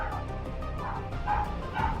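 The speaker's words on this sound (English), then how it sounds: "That's my dog." A dog gives a few soft, distant barks and yips beneath a low room background, the short calls spaced irregularly and not loud.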